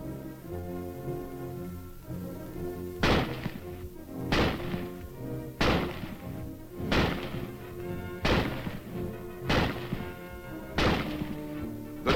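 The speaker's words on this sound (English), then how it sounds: "The rifle is first demonstrated being fired from a prone position." Springfield rifle fired from a prone position, eight heavy reports spaced about 1.3 seconds apart, each a sharp crack with a short decay, heard over a steady background hum.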